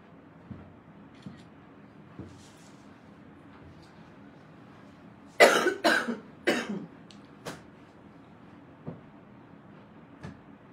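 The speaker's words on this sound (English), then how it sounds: "I don't know what is wrong with my cough." A short burst of several harsh coughs close to the microphone, then quiet with a few faint clicks.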